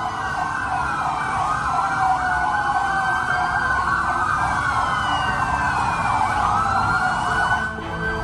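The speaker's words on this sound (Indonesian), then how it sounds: "lampu rotator dan suara sirine kendaraan taktis milik Densus dinyalakan seperti sedang menggelar suatu operasi" Loud sirens from a convoy of Densus 88 police tactical vehicles wail and sweep up and down together, overlapping continuously, with an engine rumbling underneath.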